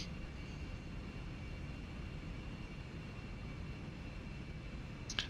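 An airplane engine in the X-Plane 11 flight simulator runs steadily as a faint, even roar during takeoff, a constant broadband drone with no talk.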